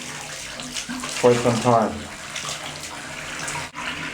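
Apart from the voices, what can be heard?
water running from the tub faucet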